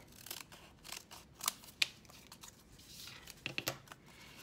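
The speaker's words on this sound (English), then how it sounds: "I'm going to trim off this back end" Scissors trim the back edge of a stack of paper flip book pages, giving faint, close snips and crisp paper rustles in a small irregular series.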